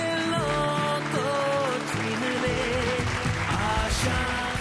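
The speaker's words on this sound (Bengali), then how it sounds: "জোরে হাততালি সঙ্গীতা মণ্ডলের জন্য।" Studio audience clapping for a contestant on a Bengali television game show, set against loud musical fanfare with sustained tones that dominate the mix.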